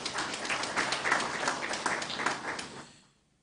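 A small crowd at a business congress applauds with steady, dense clapping for about three seconds before it quickly dies away.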